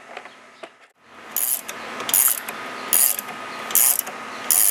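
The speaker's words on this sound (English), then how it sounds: "So we're gonna have to uncompress this and then recompress it with this type." A rented spring compressor on a Chevy Z71 truck spring is ratcheted, giving repeated crisp clicking bursts at a steady rhythm, close and moderately loud, with no talk.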